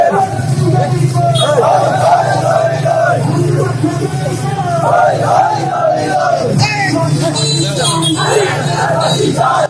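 Loud crowd of marchers chanting and shouting together at a street victory procession celebrating the fall of Hasina, rhythmic massed voices and yells continuing steadily throughout with dense babble underneath.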